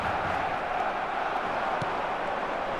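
Steady roar of a large stadium crowd cheering in an eFootball match, a continuous loud wash of massed voices with no break across the whole stretch.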